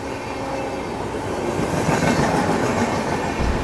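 Purva Express train rolls through an Indian railway station, a loud, steady rumble with clickety-clack of wheels on rail joints building slightly toward the end, heard up close with no talk.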